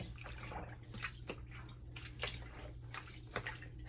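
Wet knitted wool is squished by hand in soapy water, giving soft, continuous sloshing and squelching with a few sharper splashes, close and steady over a low background hum.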